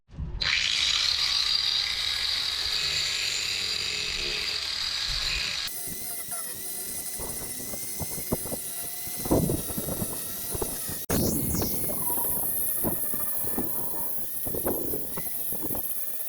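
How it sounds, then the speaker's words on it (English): Angle grinder cutting down the flange of a through-hull fitting on a Bavaria 36 sailboat, a loud continuous high whine whose pitch shifts as the disc bites, running steadily throughout with harsh scraping surges. "So I'm going to grind this one down now so you can see what I've done."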